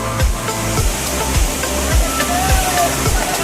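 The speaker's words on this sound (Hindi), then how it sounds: "हम आए हैं वाटरफॉल के ऊपर" The Nagnath Bhotehnath waterfall at Mukundraj, Ambajogai, makes a loud, steady rushing roar that fills the scene, broken by regular dull low thumps.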